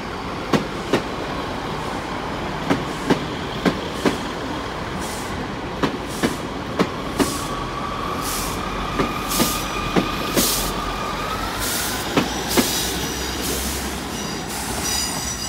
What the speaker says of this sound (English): about to depart now would be the 1515 Great Western Railway service to Exmouth.